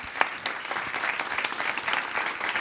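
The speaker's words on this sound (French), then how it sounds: "Je voudrais qu'on applaudisse parce que..." An audience at a talk on agriculture and food applauds steadily, dense clapping held at an even level throughout, close and full, no voices over it.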